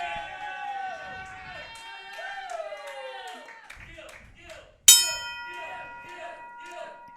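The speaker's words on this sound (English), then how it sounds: "Opening bell has sounded." A ring-side bell clangs sharply once to open a wrestling match between a 300-pound and a 211-pound wrestler, cutting through steady announcer-style talk and crowd noise, then ringing on briefly with a sustained metallic tone.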